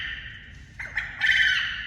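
Quail rooster gives a short harsh call, a few raspy squawking notes rising into a louder burst at the end, close and alone.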